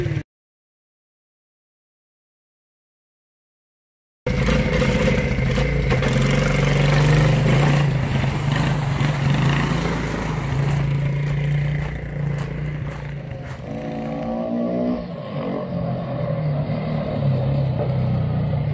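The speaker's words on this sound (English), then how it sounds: "Well, still working on the idle." A Hammerhead Twister go-kart engine, mid-rebuild, runs steadily and loud after a silent start, holding a rough, uneven idle with a clattery mechanical edge and a brief rise in revs near the end.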